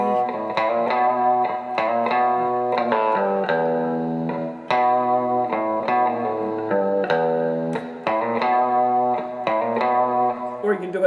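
Electric guitar playing a New Minglewood Blues riff in Grateful Dead style, through distortion and effects, a series of plucked notes and chord stabs with brief pauses between phrases, close and clear.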